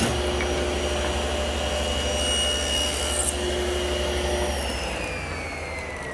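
A table saw blade runs a wood piece through while building a nest of tables, giving a continuous loud whining, rasping cut over a steady motor drone that eases off toward the end.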